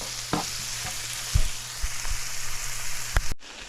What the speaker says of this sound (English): Let the onions become translucent and start to get soft.